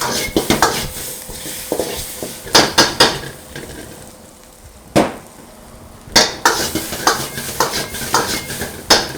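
Metal spatula scraping and clanking against a wok as food is tossed in a fast Indo-Chinese street-style stir-fry, with loud, close bursts of rapid strikes, a brief quieter pause, then more busy clattering.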